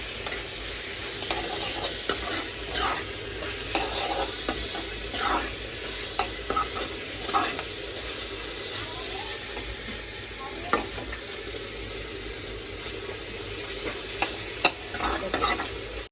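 Chillies frying in hot oil in a pan, a steady close sizzle with repeated scraping and stirring strokes throughout.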